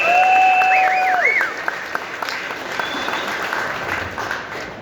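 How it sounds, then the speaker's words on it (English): Crowd applause at a car show unveiling of a Shelby vehicle, broad clapping noise from a gathered audience, loud at first and then settling lower, with a tonal whistle-like sound over the start. "So big round of applause for Shelby and what they brought to the show."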